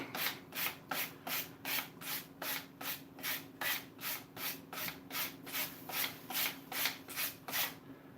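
Steady back-and-forth strokes of hand sanding along a knife's bevels on a hard backer, about two strokes per second in an even rhythm, close and clear with no voices.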